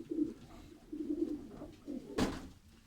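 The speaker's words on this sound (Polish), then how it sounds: "Przeszliśmy do gołęnika lotowego, gołębi dorosły." Pigeons coo in a racing pigeon loft, low repeated burbling calls in several bouts, fairly close, with one sharp thud or clatter near the end.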